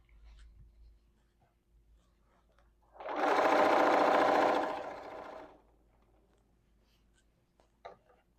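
A domestic sewing machine quilting a floral motif runs in one close, loud burst of rapid stitching lasting a few seconds, framed by quiet room tone and faint handling noises.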